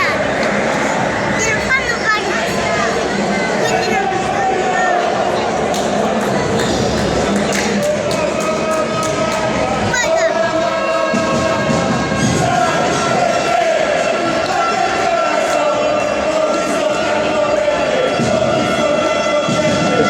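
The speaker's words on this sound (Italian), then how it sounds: "c'è davvero un grande frastuono" A large, loud crowd of supporters at a sports match roars and chants without pause, with shouts, whistles and scattered pings layered into a dense, sustained din and a voice talking over it.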